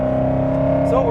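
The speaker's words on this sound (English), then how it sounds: "The first thing you're going to notice, hopefully you guys can hear us, is the noise this car makes." A 2012 Ford Mustang Boss 302 engine drones steadily and loud from the cabin while driving on a rough road, a constant rumble with a brief rise near the end, and voices talking over it.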